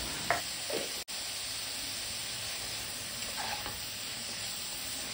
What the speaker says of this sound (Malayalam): ഇത് നല്ലപോലെ ഒന്ന് ഇളക്കിയെടുത്തിട്ട് വാട്ടിയെടുക്കാം.